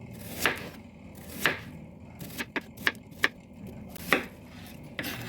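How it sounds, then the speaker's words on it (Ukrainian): A knife cuts a small onion into rings on a cutting board, with about eight sharp, distinct chops at an uneven pace, close and clear against a quiet room. "Цибулю буду різати кольцами."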